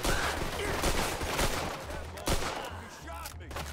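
Rapid gunfire from the Mafia 2 video game fills the scene with dense overlapping bursts and sharp individual shots, loud and continuous, with a heavy crack near the middle and low rumbling beneath.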